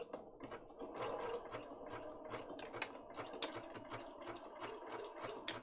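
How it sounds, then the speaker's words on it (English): Rapid mechanical clatter of a sewing machine stitching through paper, a steady dense rattle of needle strikes throughout, fairly close and with no voices. "This is a really quick way of blunting needles on your sewing machine, sewing through paper."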